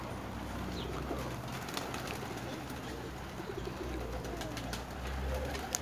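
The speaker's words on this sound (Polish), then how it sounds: "Zawiesił się gołąb." Pigeons coo in a steady, soft rhythm close by at a pigeon loft during a flock release, with a low continuous murmur underneath and a few faint clicks near the end.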